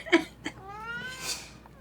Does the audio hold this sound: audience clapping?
no